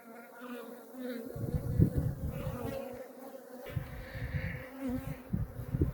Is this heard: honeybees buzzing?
yes